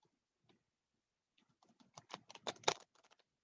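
Tarot cards being shuffled, a quiet stretch giving way to a dense burst of crisp riffling clicks and patters that swell briefly and then trail off, close by with no talking.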